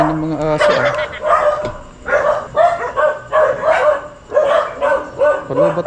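Dogs bark repeatedly in close, loud bursts beside a motorcycle taxi on the road, a ragged cluster of yaps and bow-wows with short gaps between, with a voice briefly mixed in.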